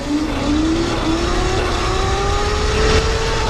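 A CEMOTO D02 electric bike fitted with Sumo tyres and stiffer forks, ridden in mode 3, gives a steady rising motor whine over continuous wind and road rumble, close and fairly loud throughout.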